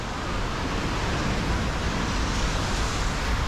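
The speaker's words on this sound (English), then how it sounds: "Don't you love that traffic noise?" Steady roadway traffic noise, a dense continuous wash of passing vehicles heard from a roadside during a run, with no voices.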